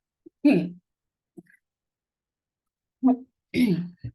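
A person coughs in a few short bursts, with a single cough, a pause, then two more close together, fairly near and clear against an otherwise quiet room.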